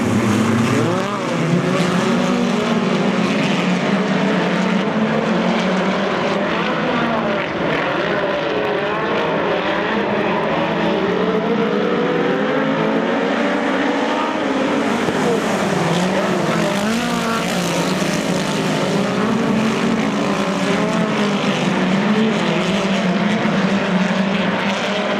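Race cars of the ARDC accelerating together off the line at the start of a heat at Silver Spring after a pace lap, a dense, loud, sustained engine roar with shifting pitch throughout, no talk.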